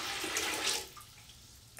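Water pours into a cooking pot for pozole, a loud rushing splash that cuts off after under a second, leaving a quieter trickle and faint room noise.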